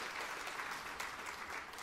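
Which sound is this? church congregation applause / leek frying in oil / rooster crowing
church congregation applause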